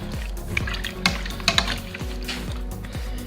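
A spoon stirs green beans in a pot of salted water, making steady rhythmic scraping and sloshing, with small clinks against the pot and no talking.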